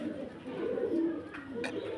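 Soft, low pigeon cooing murmurs continuously through the clip, with a few faint higher chirps near the end.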